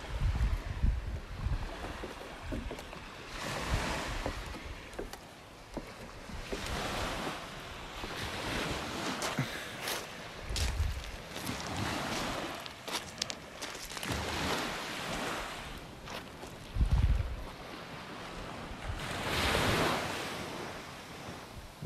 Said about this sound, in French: c'est-tu le paradis se réveiller le matin avec le son de la mer